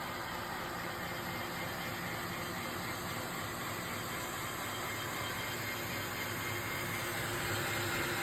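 A Tineco Floor One S5 steam mop gives off a continuous, loud, broadband hiss of steam, steady and unbroken throughout with no talking.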